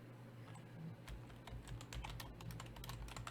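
Someone types a search on a computer keyboard in a quick run of light, close keystrokes over a steady low hum.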